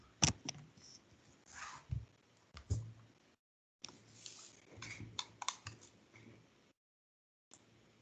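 Keystrokes on a computer keyboard while an Octave script is written, coming in irregular bursts of clicks with short pauses between them, fairly close and with no voices.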